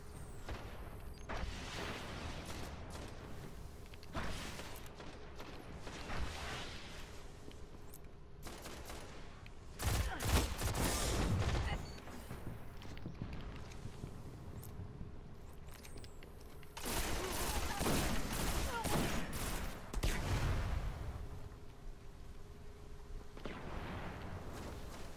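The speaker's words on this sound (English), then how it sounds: "Someone's sniping out there." Sniper rifle fire in the video game Destiny, heavy cracking shots in irregular bursts with loud booming peaks around the middle and later, over a constant rumble of battle noise.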